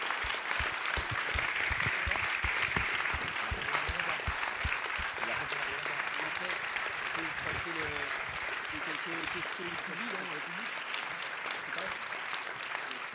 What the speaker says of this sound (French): Je crois que vous pouvez les applaudir.